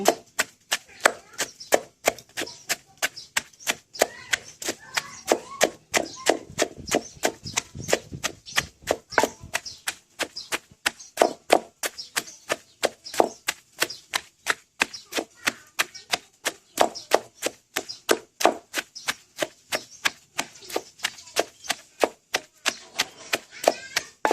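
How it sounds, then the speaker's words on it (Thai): Banana stem being pounded in a mortar for a Thai-style buried frog dish, a steady run of sharp wooden thuds repeating rapidly and evenly, close and loud throughout with no talk. "ตำหยวกตำเออนี่ให้มันละเอียดก้อนค่ะ"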